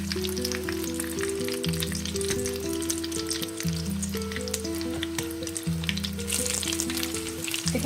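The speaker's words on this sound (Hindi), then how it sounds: "कबाबों को हम शैलो फ्राई करेंगे।" Lebanese kebabs shallow frying in hot oil in a pan, a steady loud sizzle and crackle running throughout with no talking.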